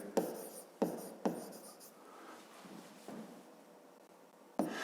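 Pen strokes on paper during a fifth-grade maths exercise, close and quiet, with a few sharp taps and scratchy writing strokes in an irregular rhythm.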